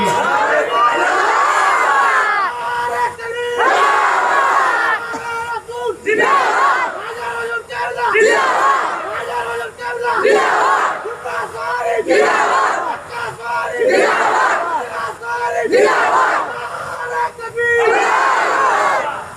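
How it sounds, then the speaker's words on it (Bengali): A large crowd at an outdoor Islamic religious gathering shouts a takbir in repeated loud, rhythmic bursts of massed voices, each chant separated by short pauses, filling the whole stretch. "মারো একজন তাকবীর"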